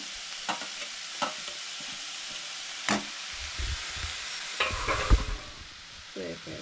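Grated carrot and mixed vegetables lightly frying for veg cutlets, a low background sizzle broken by several spoon scrapes and clinks as they are stirred, with a couple of heavier stirring bursts near the end, no voices.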